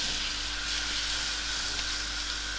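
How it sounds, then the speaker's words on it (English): Butter melts in a heated pan, giving a continuous, fairly loud hiss that holds steady throughout, with no talking. "I'm going to put a little bit of butter in there"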